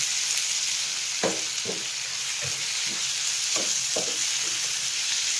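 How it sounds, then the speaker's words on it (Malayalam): Curry leaves and tomato stir-fried in a pan, with a constant close sizzle and several distinct knocks and scrapes of a spoon against the pan, no talking. "അതിലേക്ക് നമുക്കൊരു കുറച്ച് കരിയാപ്പിലയും കൂടി കൊടുക്കാം നല്ലപോലെ ഇളക്കാം"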